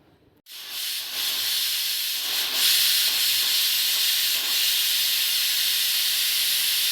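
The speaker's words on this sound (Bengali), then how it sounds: "প্রেসার কুকারের মুখটা আটকে একবার সিটি দেব" A pressure cooker boiling masoor dal lets out a sudden loud, steady hissing whistle of steam after a brief quiet start. It holds continuously for several seconds, close and sustained, with no talking.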